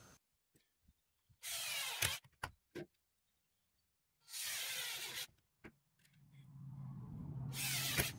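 Sanding around a lock hole in a shop door, heard as three loud bursts of power sander noise separated by quiet gaps and a few light knocks.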